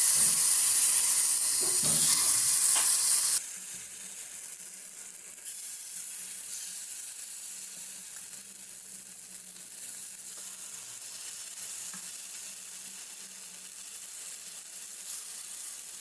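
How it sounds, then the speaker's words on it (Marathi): Appe batter sizzles in an oiled appe pan for a fasting-day appe recipe. A loud, hissing sizzle bursts at first, then settles into a steady, quieter frying crackle that runs on alone. "आता थोडं थोडं करून हे बॅटर आपण आप्पे पात्रात टाकूयात."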